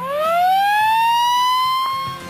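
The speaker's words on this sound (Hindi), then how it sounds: "मुंबईकरों को सुनामी के खतरे की आहट बताएगा एक सायरन।" A loud, steady tsunami warning siren on test in Mumbai rises in pitch and holds a long wailing tone, sounding alone without voices.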